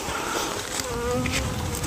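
Wild honeybees buzz steadily around a natural honey nest in the countryside, a close, continuous droning hum with individual bees passing near, moderately loud with faint background noise.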